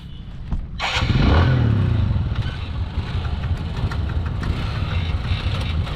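Honda motorbike engine starts up and then idles close by with a steady, slightly knocking putter for several seconds.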